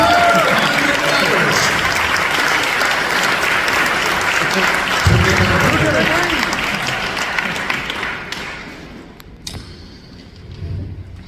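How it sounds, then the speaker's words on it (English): Audience at a luxury bingo fundraiser for a women's care center breaking into a loud round of applause with crowd noise, tapering near the end as a voice speaks over the dwindling claps. "Would you give them a round of applause?"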